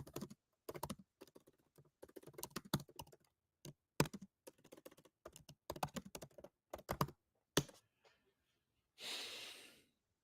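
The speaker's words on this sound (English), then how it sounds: "I'm going to type mine up." Bursts of typing on a computer keyboard, rapid clustered keystrokes with short pauses, close and clear, ending with a brief breathy exhale or sigh.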